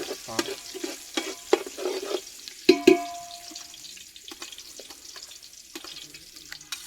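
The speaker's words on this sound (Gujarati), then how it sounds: "ડુંગળીને સળવા દો" Onions sizzle in a pan for pasta, with soft frying crackle under a few sharp stirring clinks and scrapes, moderately close, quieter toward the end.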